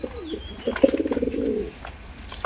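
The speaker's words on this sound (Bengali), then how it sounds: "কবুতর জোড়া করলাম।" Pigeons of Malawi and Teddy breeds cooing close by, a short burst of rhythmic throaty coos with a faint chirp before it, then quiet.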